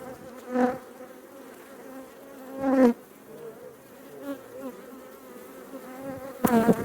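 Honeybees buzz softly around an open hive during an inspection, a low continuous drone with a few louder swells as bees fly close past, with no talking.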